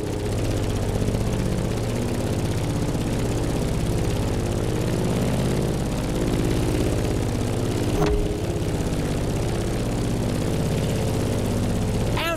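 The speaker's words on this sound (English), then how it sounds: "In the cockpit of a stunning Grumman F8F Bearcat" A Grumman F8F Bearcat propeller fighter in The Crew Motorfest drones with a loud, constant engine and airscrew hum, a brief sharp click partway through, and no talk.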